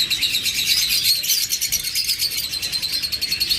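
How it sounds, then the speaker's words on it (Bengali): A pair of albino opaline Fischer's lovebirds chirps in a steady, dense stream of high, shrill calls, close and continuous with no voices. "চমৎকার এই অ্যালবিনো ফিশার অপালাইন জোড়াটা"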